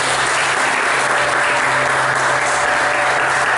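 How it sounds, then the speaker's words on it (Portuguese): Sustained, dense applause from a church congregation during a Portuguese-language sermon, loud and steady throughout with a faint murmur of voices mixed in. "Então dê uma salva de palmas para Jesus."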